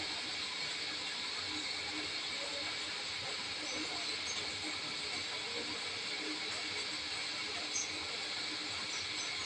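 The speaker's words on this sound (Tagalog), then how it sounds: "Kumukulo na siya." A steady, rushing hiss of water at a rolling boil in a repaired electric kettle, loud and continuous with no pauses.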